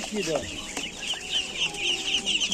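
Hens clucking at an outdoor poultry market in Cherkasy, with repeated short clucks and squawks close by over a busy, noisy background; no voices stand out clearly.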